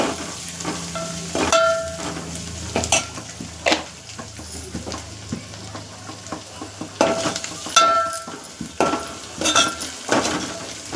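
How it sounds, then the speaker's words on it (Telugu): Coriander and turmeric being stirred into frying food in a pan, bursts of sizzling with repeated scraping strokes and metal clinks of a spoon against the pan, irregular and close. "కొత్తిమీర వేసుకొని కలుపుకొని అందులో కొంచెం పసుపు వేసుకొని కలుపుకోవాలి."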